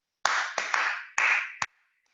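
Hands clap out the rhythm of Happy Birthday, five sharp, close claps in an uneven pattern, followed by silence.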